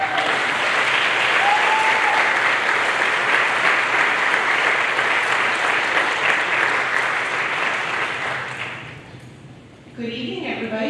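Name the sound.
audience applause at school parent night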